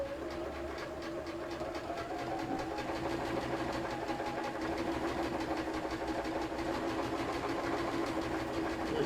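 A sewing machine free-motion stitches a gnome's beard onto a Christmas table runner, making a steady, rapid mechanical hum that runs unbroken for several seconds at moderate loudness, with no voices.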